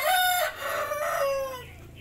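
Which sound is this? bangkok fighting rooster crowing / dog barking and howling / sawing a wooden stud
bangkok fighting rooster crowing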